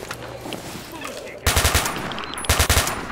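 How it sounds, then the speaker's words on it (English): Gunfire in the video game STALKER: Shadow of Chernobyl comes after quiet background noise as two sharp, loud bursts of rapid automatic shots, each a tight string of several cracks. "He's shooting me"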